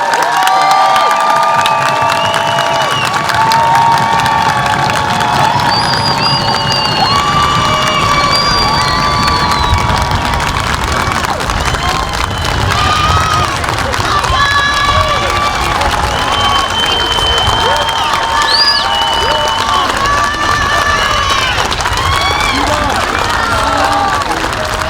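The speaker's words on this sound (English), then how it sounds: "How about another nice round of applause for our" An audience at an 8th grade moving-up ceremony applauds and cheers for a long stretch, with dense clapping, whoops and children shouting throughout.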